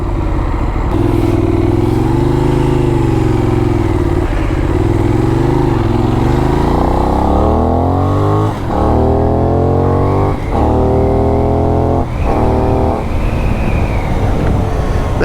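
A Benelli 752S naked motorcycle engine idles with a deep, throbbing growl, then revs up several times in sharp, rising blips, loud and close, with intake roar from the airbox.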